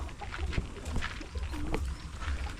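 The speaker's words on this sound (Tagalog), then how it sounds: "may mga bago tayong kalapati" Low, soft pigeon coos rise briefly from a pigeon loft over a busy, noisy background with faint bird chatter around them.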